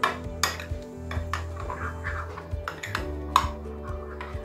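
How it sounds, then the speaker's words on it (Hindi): A spoon stirs a paste into the sauce for chicken malai tikka, clinking against the pan with sharp metallic taps over a soft scraping swirl, loud and close, spaced irregularly. "अब हम अच्छे से मिक्स करेंगे।"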